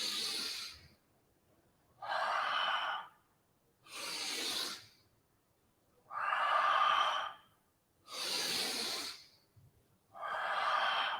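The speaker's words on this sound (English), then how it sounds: "Inhale, exhale. Inhale, exhale." During a beginner yoga exercise, slow deep breaths in and out repeat six times in an even rhythm, each a loud, close, airy hiss lasting about a second with quiet gaps between.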